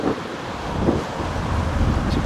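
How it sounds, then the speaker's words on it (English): Strong wind buffets the microphone in a Walmart parking lot in Mesquite, Nevada, a loud, steady rumbling roar that continues throughout. "It is very windy"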